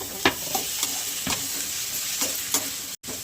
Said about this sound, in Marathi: तो एक टमाटा कापलेला होता ना ते टाकून घेते.